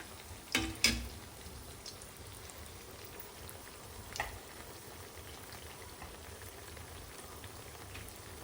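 Corn vadas deep-fry in hot oil with a faint, steady bubbling hiss, broken by a few louder clinks and splashes near the start and one more midway, no voices.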